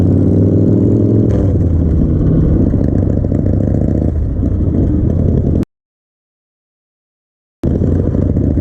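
A Harley-Davidson motorcycle engine runs loud and close with a steady rumble, rising briefly as if revved, then cuts out for about two seconds before resuming.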